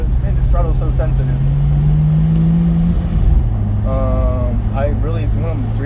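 Porsche 911 Turbo S cabriolet engine with a sensitive throttle, loud and close, its pitch climbing, then dropping back and settling to a steady hum, while people talk over it.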